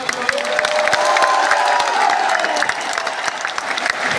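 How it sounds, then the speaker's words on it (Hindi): A large crowd at a reservation-rights rally in Delhi's Indira Gandhi Stadium claps with both hands, a loud, dense, sustained wash of applause mixed with scattered cheers and shouts. "एक बार दोनों हाथ से तालियां बजाने दिल्ली की टीम"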